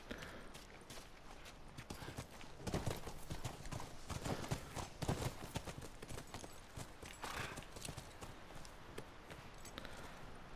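Rapid hoofbeats of a galloping horse in a video game, The Last of Us Remastered, clatter continuously, fairly close, with a brief whinny-like sound; no one speaks.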